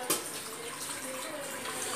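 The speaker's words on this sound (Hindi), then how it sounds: "इस तरीके से अच्छे से हमें ठंडे पानी से इसे धोना है" Strained boiled noodles are rinsed under cold running tap water, giving an even, moderately loud splashing stream close by, with a brief sharper splash at the start and no talk.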